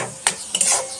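A utensil scrapes and clinks against a pan while chhena is stirred into cooked spices, with two quick metallic strokes over a faint sizzle.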